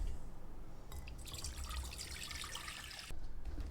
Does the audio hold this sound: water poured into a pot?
yes